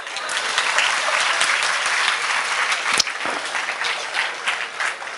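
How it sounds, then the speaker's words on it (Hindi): Loud, sustained audience applause at a happiness and wellness workshop, dense clapping from many hands throughout, with a sharp click partway through. "जोरदार तालियां."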